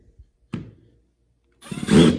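A Milwaukee M12 FPDX cordless drill spins up at low speed after a brief clunk, a steady geared whir close by.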